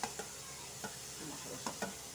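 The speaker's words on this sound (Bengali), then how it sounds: "এটার সাথে আবার একটু লাড়াচাড়া দেবো" Small cubes of paneer frying with spices are stirred in a pan, giving a soft, quiet sizzle with several distinct scraping taps of the spoon.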